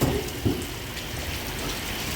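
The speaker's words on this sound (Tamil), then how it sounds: "பாருங்கள் எவ்வளோ மழை" Heavy rain pours down in a dense, steady roar of drops hitting surfaces, loud and close, with a couple of brief heavier thumps near the start and no talking.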